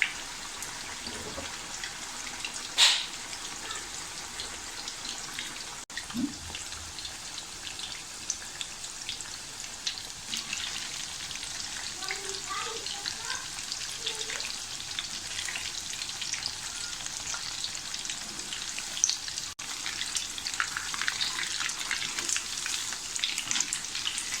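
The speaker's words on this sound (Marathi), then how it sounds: "अशा हिशोबाने आपल्याला थोडे थोडे पीस तळून घ्यायचे आणि मीडियम गॅसवरच आपल्याला हे तळायचे आहेत" Chicken pieces frying in oil over a medium gas flame, a long, even crackling sizzle with scattered pops and a few louder knocks, no one speaking.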